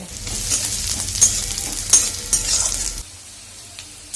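Onions, green chilli and tomato frying in a little butter and oil give a close, bright sizzle with a few stirring scrapes, which cuts out abruptly near the end, leaving quiet.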